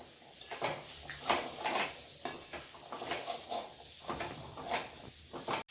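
Boiled peanuts for sundal are stirred and mixed in a pan on the stove, producing soft continuous scraping and rustling strokes with faint sizzling, fairly quiet and even throughout, ending in a brief clack.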